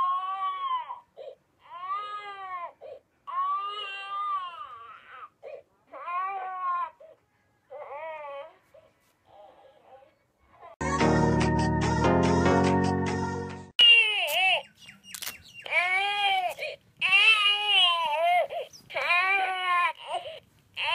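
A RealCare infant simulator doll cries in repeated loud, wailing bursts with short pauses, broken midway by a dense burst of other noise, then the crying resumes even more intensely near the end.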